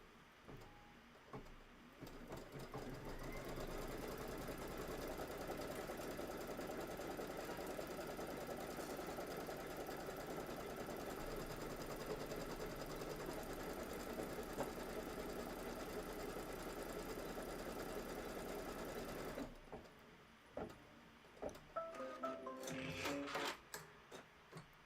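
A sewing machine runs a placement stitch for quilt batting, humming evenly and quietly for about seventeen seconds before stopping. Scattered clicks and small mechanical taps follow.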